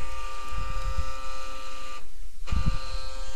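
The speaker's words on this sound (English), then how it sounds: "you can hear my valve is trying to go ahead and close back" An ABB Totalflow G4 control valve motor drives the valve closed, a low buzzing mechanical hum that comes in bursts under a steady background drone.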